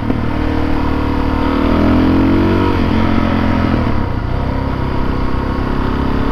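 Dirt bike engine, a KLX300 or DRZ400S on a trail, revving loudly and continuously, climbing from mid to high RPM with a rising buzzy tone that then holds steady, close by with no talking.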